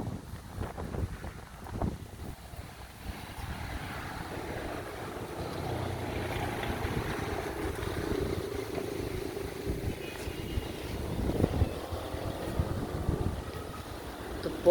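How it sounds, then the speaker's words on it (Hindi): A very strong storm's wind buffets the microphone in heavy, continuous rumbling gusts, rising and falling with a broad roaring wash throughout, no talk. "बहुत तेज़ तूफ़ान चल रहा है तेज़ हवाओं के साथ"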